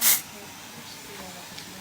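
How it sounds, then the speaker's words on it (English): Aerosol texture spray is sprayed into hair in one short, loud hissing burst at the start, followed by a quiet room. "It's not a dry shampoo, it's a texture spray"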